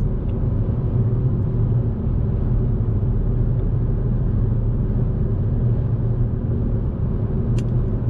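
A 2020 Kia Stonic with a 1.0 t-GDI three-cylinder petrol engine, heard from inside while driving, gives a steady, loud low rumble of engine and road noise with no speech.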